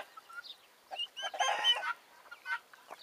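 Backyard chickens kept outdoors on a small farm with turkeys cluck in a run of soft, uneven calls, several overlapping in a louder burst at the middle, fairly close and without talk.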